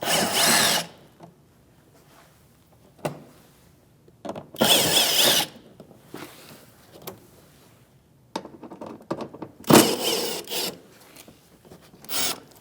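Power drill driving a 7mm socket to back out fender liner screws on a 2016-2025 Chevrolet Malibu, in several short, loud whirring bursts separated by quiet pauses and faint handling noise.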